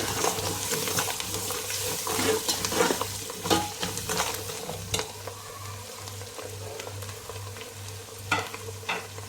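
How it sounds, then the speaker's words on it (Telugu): Chopped coriander and mint are stirred into mutton biryani in a pot. A ladle scrapes and knocks in an uneven rhythm over a low, steady sizzle, close and clear, with no talking. "సన్నగా కట్ చేసుకున్న కొత్తిమీరను, పుదీనా ఇవి వేసుకొని బాగా మిక్స్ చేసుకోవాలి"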